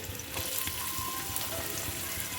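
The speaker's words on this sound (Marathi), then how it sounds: "फ्राय करून घेऊया" Bottle gourd pieces fry in oil on a hot pan, giving a short, continuous close sizzle with faint crackles throughout.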